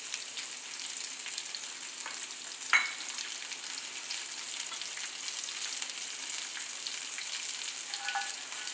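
Medium chopped onions tossed into hot oil with whole spices for a fenugreek, pea and cream curry, sizzling steadily and evenly up close with a brief stir clatter near the middle.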